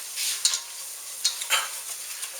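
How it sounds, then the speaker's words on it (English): Flour being stirred briskly into melted butter in a pan over medium heat to make a roux for steak mac and cheese, heard as soft scraping and sizzling strokes in a few short bursts, close up with no talking. "stir it briskly. You have to keep stirring."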